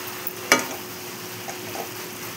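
Shredded cabbage with salt and turmeric is stirred in a frying pan, a low steady sizzle with one distinct scrape or clink of the spoon early and a few softer stirring sounds after, no voices.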